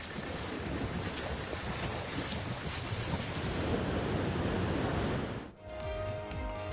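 Storm surf and gusting wind on the Italian coast during a European storm, a loud, steady roar of crashing waves and wind buffeting the microphone, cut off abruptly near the end.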